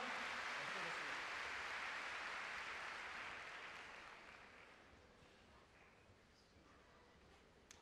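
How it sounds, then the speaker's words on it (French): Spectators applauding a show jumping round at an international indoor competition, a broad wash of arena clapping that is loud at first then steadily fades away. "Et des applaudissements encore pour Stawita"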